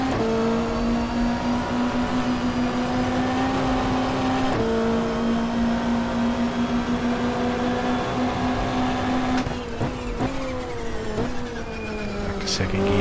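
A touring race car engine in the GTR2 racing game holds a high, steady whine, then drops and climbs in pitch as the driver shifts gears, loud and close throughout.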